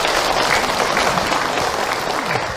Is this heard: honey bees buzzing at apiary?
no